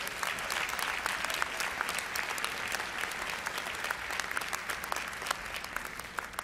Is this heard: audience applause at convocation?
yes